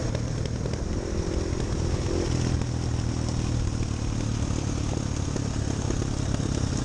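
A motorcycle engine runs steadily and loudly up close, a constant throbbing drone with rattling clatter and no talking over it.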